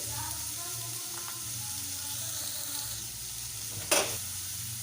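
Eggplant and potato pieces coated with oil, salt and turmeric fry in a pan, a steady soft sizzle running throughout with a sharp scrape or clatter near the end.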